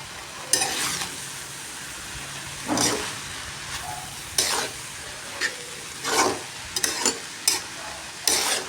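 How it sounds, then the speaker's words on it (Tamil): Grated coconut being stirred into a vegetable stir-fry in a pan, with repeated scraping strokes and soft sizzling at close range, spaced out in irregular bursts with no talking. "தேங்காய் பூ போட்டு கிளறி விட்டுக்கலாம்"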